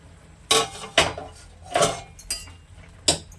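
A metal pot lid clanks and scrapes against a cooking pot several times in quick, uneven bursts, loud and close, while greens and onions cook in a Bengali jute-leaf curry.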